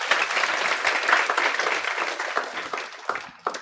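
Students in a lecture hall applauding together, a dense wash of clapping that holds steady and thins out toward the end.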